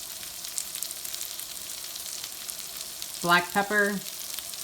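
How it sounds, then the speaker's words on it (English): Red potatoes fry in a pan with a continuous close sizzling hiss, and a voice briefly speaks over it near the end. "I'm going to add my potatoes and fry these until they are nice and crispy"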